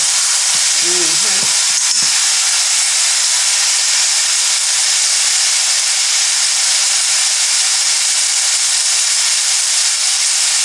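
Pot roast searing in an Instant Pot, a loud, steady broadband sizzle and hiss that runs throughout, with a brief low voice-like sound near the start.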